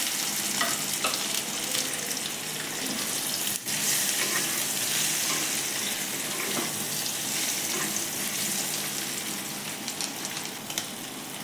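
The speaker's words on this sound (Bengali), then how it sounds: "নিয়ে এবার আলুগুলো আমি ভেজে নেব" Boiled potatoes coated with turmeric fry in hot oil in a wok, a steady dense sizzle running throughout with occasional stirring scrapes, close and unbroken, no voices.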